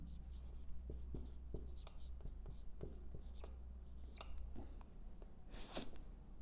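Chalk scratching and tapping on a classroom blackboard during a Hindi grammar lesson, a run of short strokes and taps across the clip, close and clear over a steady low background hum.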